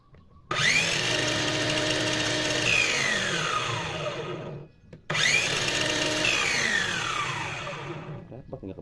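An M60 circular saw spins up to speed twice in a row, each run a loud, steady high whine that holds for several seconds and then winds down before starting again.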